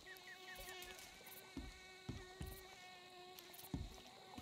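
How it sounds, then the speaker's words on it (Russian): Flies and mosquitoes whine and buzz faintly in the video game Battlefield Hardline, alongside a steady tonal hum and a few soft thumps, with a voice talking quietly. "Что-то мухи, комары летают"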